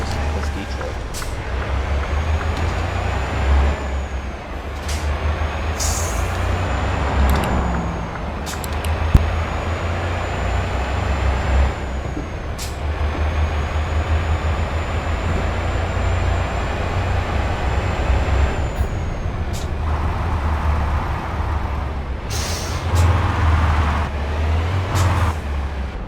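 Detroit diesel truck engine in American Truck Simulator, heard with the windows rolled down as a steady low drone throughout, with occasional hisses and air-brake-like bursts over the continuous rumble.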